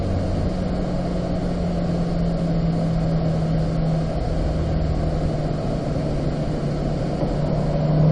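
A Corvette engine drones loudly and steadily inside the car while driving through a corner on a racetrack, a constant low rumble with a faint rising tone and road noise.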